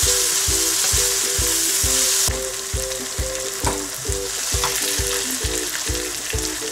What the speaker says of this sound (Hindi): अब हमने प्याज को 5 मिनट के लिए ऑयल के अंदर भूनना है।